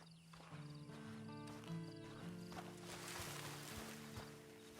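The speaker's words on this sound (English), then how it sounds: "Then you better get on this horse." Horse in the Red Dead Redemption 2 video game, heard as hooves and snorts set against steady game music with sustained tonal lines throughout.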